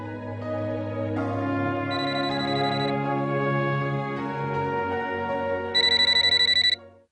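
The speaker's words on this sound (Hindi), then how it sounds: "फिर फोन कर रहे।" A phone rings with a sustained melodic ringtone that holds steady for several seconds and ends in a brighter burst of high repeating beeps, alone without voices.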